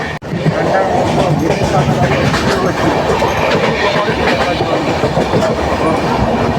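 Gour Express passenger train rolling on rails, a loud continuous rumble with steady clickety-clack of wheels over the track, heard up close from on board.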